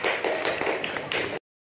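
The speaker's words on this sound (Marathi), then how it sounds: "सर्वांनी प्रगतीसाठी टाळ्या वाजवा" A group of schoolchildren claps together in a classroom, a dense burst of quick overlapping claps lasting just over a second before stopping abruptly.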